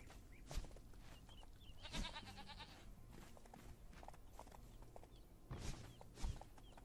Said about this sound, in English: I got some Billy Goats.